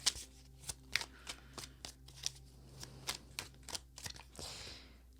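Tarot cards are shuffled close up in a quick run of crisp riffling snaps and flutters, about a dozen distinct bursts in a fairly steady rhythm, with no voice over them.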